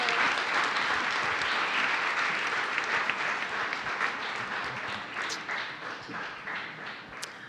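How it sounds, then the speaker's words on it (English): Sustained applause from an evening audience at a live community event, honoring Savvy Celebrations: dense, steady clapping that stays fairly loud throughout and eases slightly toward the end, with no talking over it. "let's give a round of applause to Savvy Celebrations for this evening."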